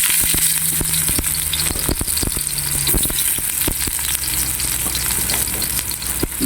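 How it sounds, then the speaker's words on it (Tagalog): Onion and garlic sauté in a hot pan for a vegetable stir fry, a loud constant sizzle broken by sharp, repeated stirring clacks of a utensil against the pan, with no voices. "Mag-gisa-gisa na tayo guys. Sibuyas, bawang,"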